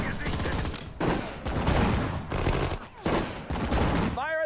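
Battle gunfire in the Sudden Strike 4 World War II strategy game, loud repeated bursts of rifle and machine-gun fire in rapid clusters, with game voice lines breaking in near the end.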